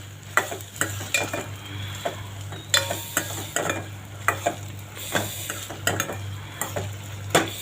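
Garlic and onions sautéing in a pan for a Chennai-style onion kuzhambu, a steady sizzle broken by frequent scraping and tapping strokes of a spoon, close up with no talking.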